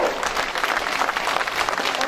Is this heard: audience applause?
yes